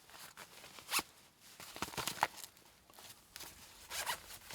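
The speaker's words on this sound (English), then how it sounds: "Another nice pouch with a zipper." A zipper on a pouch from a rear MOLLE panel organizer for a fifth-generation Toyota 4Runner rasps open and shut in several quick, close strokes, fairly quiet with no talking.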